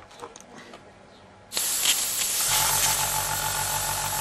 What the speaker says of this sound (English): Spray a bit to clean the needle out.